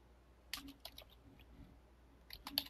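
Quiet, scattered keystrokes on a computer keyboard sound close by, with a short cluster of taps, a pause, then a few more clicks near the end.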